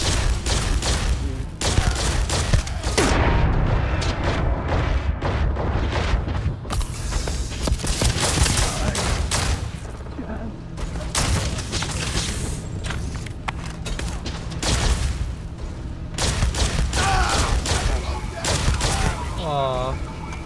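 Dense, continuous gunfire in the sci-fi game Starfield, with rapid bursts, booms and thuds over nearly the whole stretch, loud and close with brief lulls, and a voice talking over the combat.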